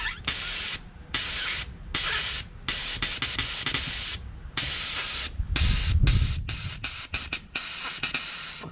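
Air is blown through the CP3 fuel-pump solenoid of a 2009 Cummins 6.7 diesel in repeated loud, close hissing bursts, at first evenly spaced and then turning into quicker, choppier puffs.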